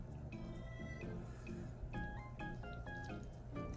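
Water trickling from a LOL Surprise Boys toy into a glass, a quiet series of small drips and tinkling splashes, close and faint, with a few plastic handling noises.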